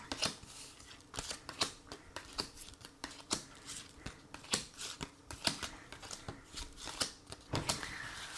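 Tarot cards being shuffled before a reading, soft papery riffles and slaps coming in quick irregular bursts, faint and close, with no voices.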